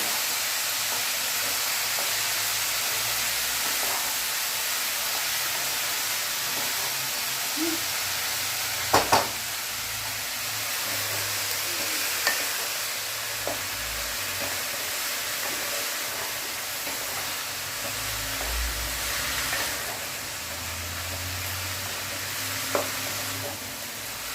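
Young bottle gourd, washed and drained, being mixed in a hot pan: a steady broadband sizzle runs throughout with occasional soft utensil knocks, close and even, without talk.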